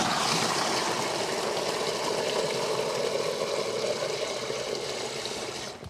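Water gushes steadily from a pipe elbow into a 10–11 litre bucket, a continuous broad splashing rush that holds even and fairly loud for several seconds before easing slightly at the end; no voices.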